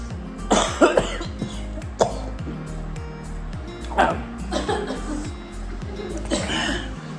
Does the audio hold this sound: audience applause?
no